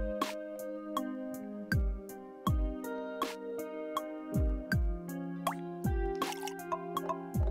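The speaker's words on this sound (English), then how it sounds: "Tap the action key to water the sprouts. Hold it down to soak them." In the rhythm game Melatonin, watering-sprout cues land as a regular series of bright drips and plops, set against a tonal musical backing.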